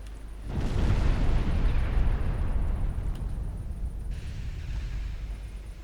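A 6-inch naval gun firing in the warship battle game Ultimate Admiral Dreadnoughts, heard as a heavy boom swelling into a long, low rumbling roar that fades slowly with no voices over it.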